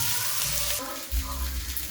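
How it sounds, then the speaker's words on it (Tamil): Noodles or similar food frying in oil in a pan on low heat at home, a soft steady sizzle with some clatter and low rumble, no voice heard over it. "இது நல்லா அப்படியே நல்லா ஃப்ரை ஆகட்டும்"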